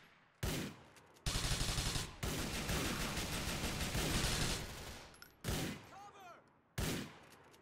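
Gunfire in Grand Theft Auto 4: loud, close automatic bursts, one long sustained stretch of rapid fire followed by shorter volleys separated by brief quiet gaps, with a voice talking faintly between shots.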